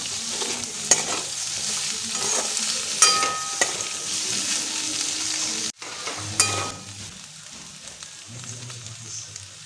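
Onions, chillies and chopped garlic fry in a pan, a steady loud sizzle broken by repeated scraping stirs and a brief pause partway through, with no talking.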